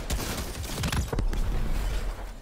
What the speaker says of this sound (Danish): Den eksplosion var større, end jeg regner med.